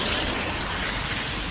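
Rain falls steadily outdoors as a dense, even hiss with no breaks, loud and close, with no voices over it.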